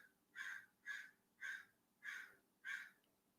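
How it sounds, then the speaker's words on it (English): A crow outside caws five times at a steady, even pace, each call harsh and moderately distant over a faint background hum. "There's a crow outside making noise."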